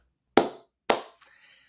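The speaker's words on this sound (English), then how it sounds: "Slow clap for us" Three slow, separate hand claps spaced about half a second apart, crisp and close, with no voices.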